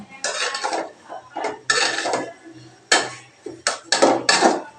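Potatoes going into a pot of Malabar spinach, with a series of sharp metallic clanks and scrapes of a utensil against the pot in uneven bursts, close and fairly loud.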